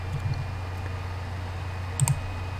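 A few soft computer mouse clicks, including a quick pair of clicks near the end, sound close up against a steady low electrical hum while a WordPress plugin is being added.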